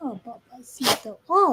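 A single sharp sneeze bursts out between stretches of conversation at home during a Saturday crafting session, loud and close, with people talking just before and after it.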